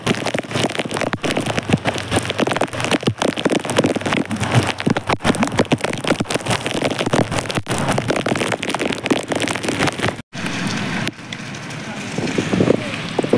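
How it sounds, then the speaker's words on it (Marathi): Monsoon rain pours through trees near Barki waterfall in Kolhapur, a dense, continuous patter of drops on leaves with gusty noise, briefly cutting out for a moment near the end before resuming. "झाडामुळे जास्त पाऊस वाटतोय इथं."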